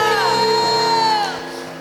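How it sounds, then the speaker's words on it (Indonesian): A church congregation at an Indonesian Holy Spirit outpouring worship service cheers for Jesus with loud overlapping whoops and sliding shouts that fill the room, then taper off after about a second. "Berikan sorak-sorai tepuk tangan buat Tuhan Yesus."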